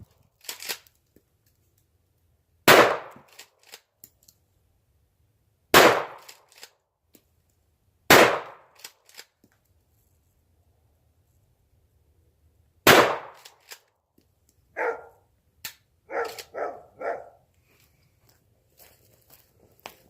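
Aguila 12 gauge mini buckshot shells fire from a shotgun during an outdoor pattern and penetration test, producing four sharp, loud single reports spaced a few seconds apart, followed by fainter scattered cracks and clatter.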